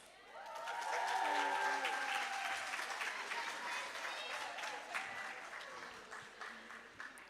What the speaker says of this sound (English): Let's give a round of applause again.